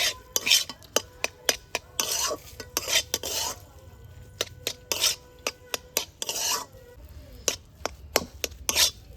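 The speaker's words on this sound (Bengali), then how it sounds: "দিয়ে দিচ্ছি ফুলকপির মধ্যে ফুলকপি আর আলুটাকে খুব ভালোভাবে মিশিয়ে নেব" Grated potato and cauliflower being mixed with ground spices in a bowl, a run of sharp spoon clinks and scraping rubs in uneven bursts, close and crisp with no talking.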